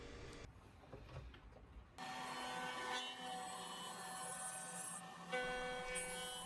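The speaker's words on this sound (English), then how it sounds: "We never tire of watching the bit break out when cutting through mortises." A PantoRouter joinery machine's bit cutting diamond-shaped through mortises in a wooden stool leg makes a steady, loud whirring grind after a short quieter stretch, with a brief surge near the end.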